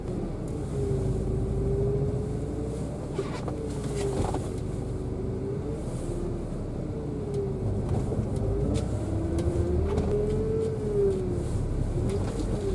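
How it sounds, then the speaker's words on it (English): A car driving at night once its engine has warmed up, giving a steady close engine rumble with a faint wavering tone rising and falling throughout, no talk. "the car is finally warmed up just enough so I can drive it."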